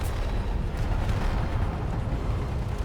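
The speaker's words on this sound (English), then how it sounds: "Doing a lot of damage with them Gatling guns." Rotor-mounted Gatling guns on warships firing in the space game Space Engineers, producing a heavy continuous rumbling barrage of rapid booming bursts at steady loudness throughout.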